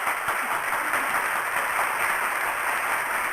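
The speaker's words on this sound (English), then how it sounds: "Now you gotta get that good round of applause" Dense, even applause from an applause button sound effect, a continuous wash of clapping at constant loudness with no voices.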